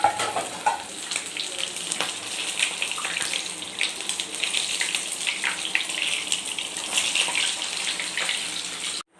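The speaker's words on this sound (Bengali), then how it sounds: "তেলটা গরম হয়ে গেছে, এখন একটা একটা করে চিকেন ফ্রাই করে নেব" Egg-marinated chicken pieces frying in hot oil: a loud, continuous crackling sizzle with bursts of spatter, steady for several seconds and close, no voices, ending abruptly.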